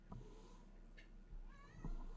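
A pet cat named Bonnie gives a few short, faint meows spread over a couple of seconds in a quiet room.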